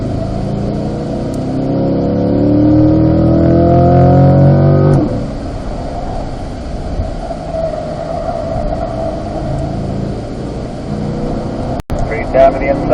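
A Corvette C8 on the 1.5-mile North course at Spring Mountain, its engine climbing steadily in pitch under load before the power cuts off, leaving wind and road noise while a driver talks throughout.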